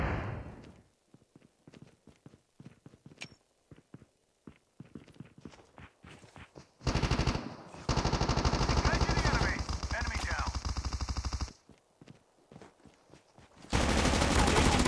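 Automatic gunfire in the Call of Duty Mobile battle royale, sustained dense bursts close and loud after scattered footsteps and shots, with game voice callouts in between.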